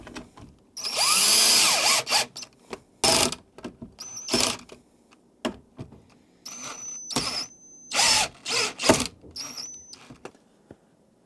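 A power drill drives screws into alpine touring ski bindings at home, in several short whirring bursts separated by pauses, close and loud, with faint clicks between the bursts.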